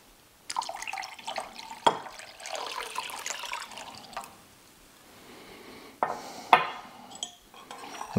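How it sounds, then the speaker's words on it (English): Cold water splashes and trickles into a bowl of Jell-O amid clinks of dishes and utensils, with a few sharp knocks; no voices. "now I'm going to add 2 cups of cold water"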